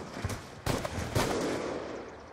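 Sharp sniper rifle shots in a video game, two or three loud cracks in quick succession with a brief echoing tail, no talking over them.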